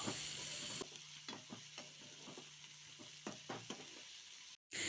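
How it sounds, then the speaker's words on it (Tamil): Chopped onions and garlic sauté in oil in a pan for a chickpea gravy, a steady quiet sizzle with intermittent scraping stirs close by, then a brief dropout before the frying resumes. "இப்போ பூண்டும் கொஞ்சம் நேரம் வதங்கட்டும்"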